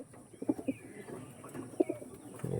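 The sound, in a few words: pigeons cooing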